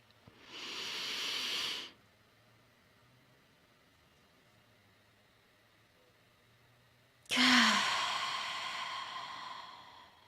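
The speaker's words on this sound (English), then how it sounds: "take in 3 deep, audible breaths" During a breathing meditation, a person takes two deep, audible breaths, each a long airy rush of a second or more, separated by several seconds of quiet room hiss.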